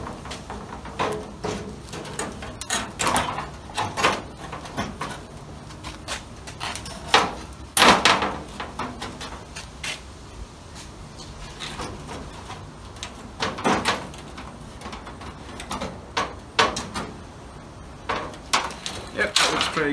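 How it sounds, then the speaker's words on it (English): Metal door frame being squeezed into the door skin of a 1936 Chevy Coupe, giving a series of close, irregular metallic knocks, clanks and scrapes across the stretch, with some louder bangs mixed in. "let's see if we can squeeze this frame inside the door skin."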